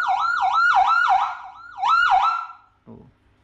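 Whelen SA40 siren speaker sounding a rapid yelping wail in repeated rising and falling sweeps, loud and close, then cutting off into a short low rumble.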